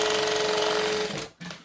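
A sewing machine stitches fabric at an eighth-inch seam allowance in one loud, even run that stops abruptly, then briefly restarts nearby.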